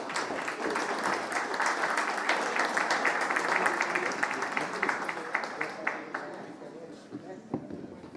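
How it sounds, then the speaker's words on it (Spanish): Sustained applause from an audience at a book launch panel, dense clapping that stays strong for several seconds before gradually thinning out toward the end. "Un aplauso para ellos, por favor."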